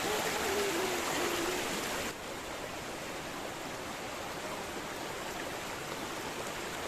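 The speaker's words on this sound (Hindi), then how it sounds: "छोटा सा पानी का धार वो बहता था, और उसका जो हल्का सा साउंड है वो बहुत ही अच्छा लग रहा था हमें।" A small stream of water flows near Badaghagara Waterfall in Keonjhar, Odisha, a steady broadband rushing that stays constant and fairly faint, without voices.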